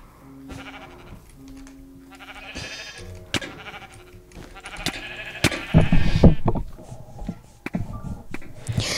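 Sheep bleating in the Sheep Quest video game, several short bleats from near and mid distance over light scuffling game sounds, growing louder toward the end.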